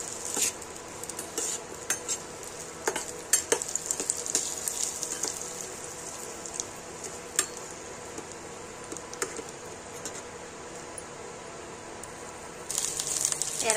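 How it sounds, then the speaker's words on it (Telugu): Thinly sliced onions fry lightly in oil in a pot, a soft sizzle under frequent clinks and scrapes of a spoon stirring against the metal, steady and close with no talking. "ఉల్లిపాయ కూడా నూనెలో వేయించుకున్నాం లైట్గా."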